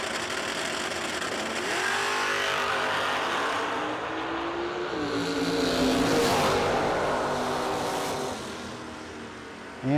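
A Ford Mustang drag car roars off the line at a drag racing event, its engine rising loud and close through several gear pulls before tapering off, with no talk over it.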